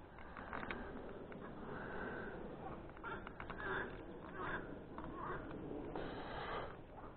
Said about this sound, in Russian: Ой, лягушки поют